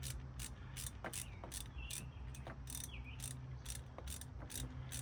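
A hand ratchet clicks in short repeated bursts while a car starter is installed by hand in a home garage, with a steady mechanical hum and faint insect-like chirping underneath; no talking.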